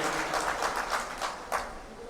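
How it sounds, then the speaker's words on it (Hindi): An audience at a Congress workers' meeting in Jammu claps together, a steady wash of hand claps with a few stronger swells, heard at a moderate distance for a couple of seconds. "जोरदार तालियों से मुबारक करते हैं"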